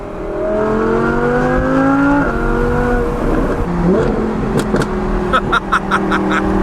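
Audi R8 V10 Plus with an aftermarket exhaust, loud engine rising and falling through revs, then sharp popping crackles in quick bursts near the end, close and dominant.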